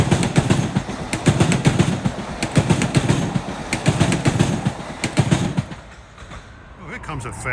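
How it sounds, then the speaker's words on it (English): A fast Metro-North train on the Harlem Line, running from North White Plains to Grand Central, roars past close by with a steady rhythmic clatter of wheels that eases toward the end, while people talk over it. "here comes a fast train at 5:37, 570 from North White Plains to Grand Central"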